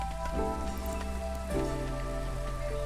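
Steady rain falls in the Against the Storm video game, a dense continuous hiss of drops on surfaces under a low constant musical drone, with no voices.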